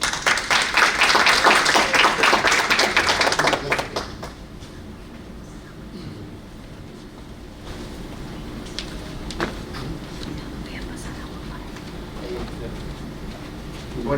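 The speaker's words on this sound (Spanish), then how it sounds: "Lo recibimos con un cordial aplauso." An audience at an international conference gives a speaker a warm welcome with loud, dense clapping for about four seconds before it cuts off into a quiet room with faint rustling.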